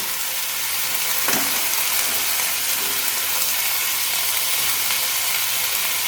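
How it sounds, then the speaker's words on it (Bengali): Ingredients stir-fry over a high flame, giving a loud, steady, close sizzling hiss throughout, with one brief utensil knock and no voices. "এবার হাই ফ্লেমে দিয়ে সমস্ত উপকরণগুলো আমি খুব ভালো করে নাড়িয়ে ভেজে নেব।"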